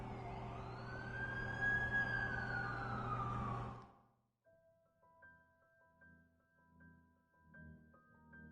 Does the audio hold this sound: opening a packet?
no